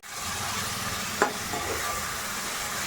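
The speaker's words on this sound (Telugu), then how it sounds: "ఒక్క ఫైవ్ మినిట్స్ ఫ్రై చేయాలండి మంచి అరుమ అన్నది వస్తుంది మనకి ఈ మసాలా వేగుతున్నప్పుడు" Onions and masala frying in a pan, a steady even sizzle with one brief scrape of stirring midway.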